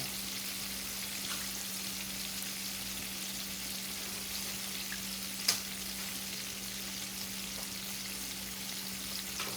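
Shrimp for bang bang shrimp fry in hot oil with a steady, even sizzle over a low constant hum, broken once by a brief sharp click.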